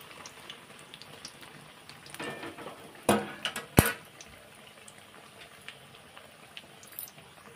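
Batter-dipped sandwich pieces frying in a pan until red on both sides, a faint steady sizzle with a couple of brief louder crackles and spatters near the middle, no voices.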